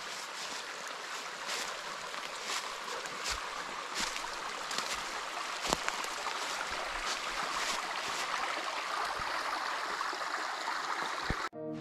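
The Stieferner Bach, a small stream along a pilgrimage hiking trail in Lower Austria, flowing with a steady broadband rush and gurgle, fairly near, with occasional small knocks and footsteps.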